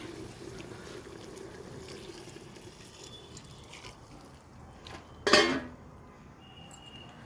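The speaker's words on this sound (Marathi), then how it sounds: "मी आता हे पण पाणी टाकून घेत आहे" Water poured into a pot of chicken cooking over a wood-fired clay stove, heard as a short, loud, close splash after a quiet stretch of faint background trickling.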